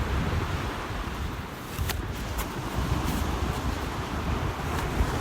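Strong, steady wind roars at a beach on a cold morning, buffeting the microphone with a constant broadband rush and occasional surf-like swells, with no voices.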